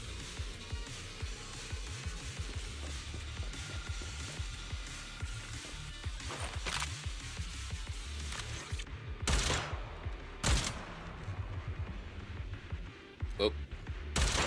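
Rapid gunfire and bursts of shooting from combat in the video game Zenless Zone Zero, dense and continuous with louder sharp shots near the end, layered over game music and talk.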